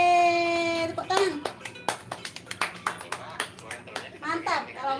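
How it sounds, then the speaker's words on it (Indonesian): Several quick hand claps ring out in an uneven burst after a child's cheer, with a young child and an adult talking between and over the claps during a playful Indonesian learning game. "Tepuk tangan."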